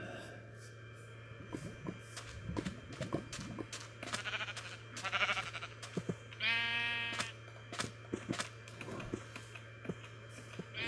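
Blocky sheep in Minecraft bleat several times in short nasal calls amid a busy game soundscape of clicks, footsteps and a steady low hum, with a clear sustained bleat near the middle; faint and fairly distant.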